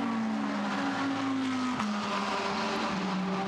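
GT race cars at Monza braking hard into the Variante Roggia chicane, engines droning and then dropping in pitch as they slow, with light tyre noise at moderate distance.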